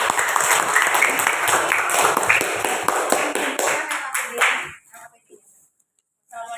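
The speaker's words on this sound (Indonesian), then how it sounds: "kita beri aplaus untuk kelompok" Classroom applause for a student group, a dense burst of many hands clapping near and loud for about four and a half seconds, then it fades out to near silence.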